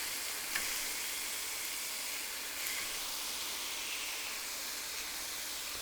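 Smash burger patties sizzling on a hot griddle, a steady, even hiss of searing meat throughout, close and fairly soft, with a couple of faint taps and no voices.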